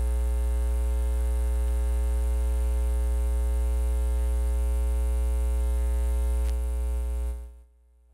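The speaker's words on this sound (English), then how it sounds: "Is a turntable was humming" A steady low electrical hum with a faint buzzing edge from a turntable drones continuously, then cuts off abruptly near the end.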